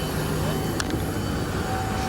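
Steady broadband roar of a passenger airliner cabin just after landing, a continuous loud drone with a brief faint click partway through.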